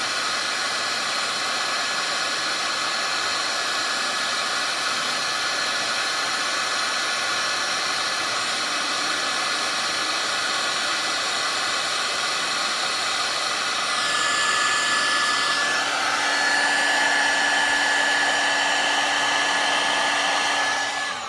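A heat gun blows hot air steadily and loudly throughout, a constant broadband hiss with a whining tone that shifts and rises near the end, heard alone with no talking, used during a Peterbilt 359 truck restoration.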